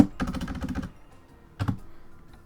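Fast clicking keystrokes on a computer keyboard come in a dense burst, then stop, then a shorter flurry follows, close and fairly quiet over a faint background hum.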